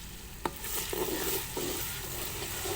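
A paste of garlic, onion, ginger and green chillies cooking in a pan, a quiet sizzle broken by a sharp clink and several brief stirring scrapes.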